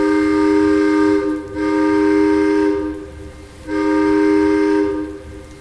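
A steamboat's whistle sounds on arrival at the Luebo mission station in the Congo, three long steady blasts with brief gaps between them, loud and near over a low background rumble.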